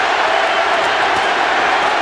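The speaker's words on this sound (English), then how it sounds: "The crowd is in an absolute frenzy." Boxing arena crowd at a Pacquiao vs Margarito fight roars in a frenzy, a dense, steady wall of loud cheering noise with no breaks, likely with commentary under it.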